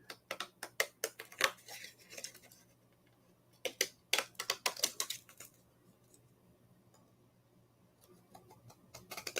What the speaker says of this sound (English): now this time I'm actually just going to use scissors